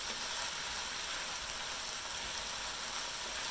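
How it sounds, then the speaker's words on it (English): Garlic frying in a pan while being stirred for fajitas, a constant dense hiss of sizzling at moderate volume, unbroken and even throughout, with no voices. "So I'm giving this another bit of a stir to kind of give the garlic a chance to cook"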